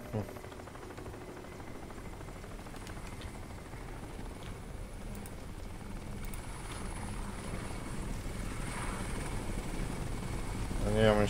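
Helicopter in Crysis, a continuous rotor thrum and engine whine building steadily louder toward the end, heard over low background game noise.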